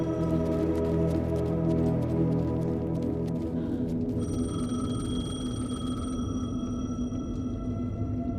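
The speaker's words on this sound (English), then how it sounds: "The payphone was ringing." A payphone rings steadily in the video game Alan Wake 2, a sustained electronic ringing tone layered over a dense, droning ambient score that carries on throughout.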